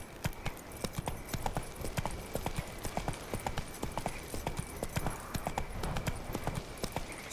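Roach the horse gallops in The Witcher 3: Wild Hunt, a fast, steady clip-clop of hooves that is close and loud and runs the whole time, with faint game ambience behind it.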